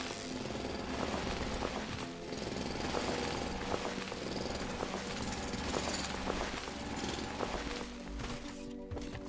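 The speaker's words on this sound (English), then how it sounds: "I'm excited to see what mining drill speed 1 will do." Mining drill machinery in the factory-building video game Foundry runs steadily with a dense, rattling mechanical drone and rhythmic clatter, loud and continuous throughout with no voices.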